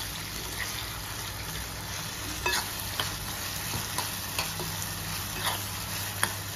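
Food sautéing in a pan with salt for a non-veg thali, a steady sizzle throughout broken by regular scraping clicks of a spatula stirring, close and moderately loud.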